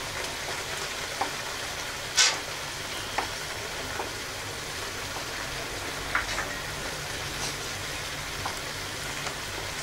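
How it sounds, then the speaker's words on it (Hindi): Ginger and garlic paste sizzles in a frying pan for a tomato and cottage cheese dish, a soft continuous crackle with a few sharper pops and stirring clicks, fairly quiet and free of talk. "अब मैं इसमें अदरक और लहसुन का पेस्ट डालूंगी।"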